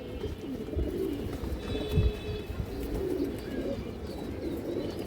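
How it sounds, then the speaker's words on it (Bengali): Pigeons cooing softly and repeatedly nearby, low throaty murmurs layered over a steady background rumble, with no talk. "এই দেখেন অনেক সুন্দর কবুতর একদম ফুল বুট ঠোঁটের"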